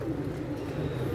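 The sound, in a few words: pigeons cooing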